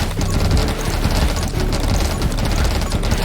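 Dense, nonstop gunfire from countless bullets in the game 20 Minutes Till Dawn, a loud, steady rattle of overlapping shots with no pauses throughout.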